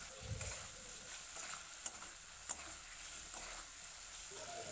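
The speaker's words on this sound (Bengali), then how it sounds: "এবার আলুর সাথে মশলাটাও কষিয়ে নেব।" Potatoes sautéed with spices in a pan sizzle faintly and steadily, with a couple of soft stirring knocks, quiet and close, with no talking.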